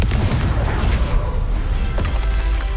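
Fire spells such as Confringo explode during combat in the video game Hogwarts Legacy, with several sharp booming bursts and crackling impacts that follow one another quickly over dense battle noise.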